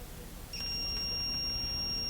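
A steady high-pitched electronic multimeter continuity beep, tested on a driveway gate opener's limit switches, begins after a brief chirp and holds continuously, with a short gap near the end, over faint background hiss.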